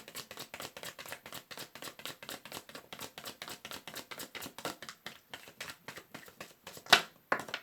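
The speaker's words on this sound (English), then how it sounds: "this is your last shuffle" A deck of tarot cards is shuffled by hand in a fast, even run of soft papery taps heard close up, ending with a couple of sharper clicks.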